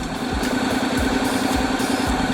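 A Honda DCT motorcycle engine runs on its stand after being shifted into drive, a steady low idle hum with faint periodic thumps and a constant mechanical drone.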